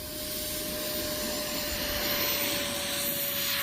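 Freewing Eurofighter Typhoon RC jet with a 90mm 1900kv electric ducted fan at full throttle for takeoff, a steady loud whooshing whine with a constant high tone, close and unbroken throughout.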